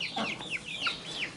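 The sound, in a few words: hen clucking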